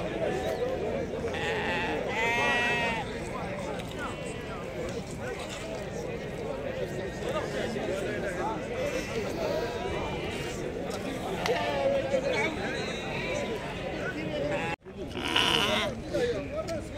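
Damani sheep bleat repeatedly at a busy Tuesday livestock market in Azrou, with several overlapping calls over constant crowd chatter and trader voices throughout.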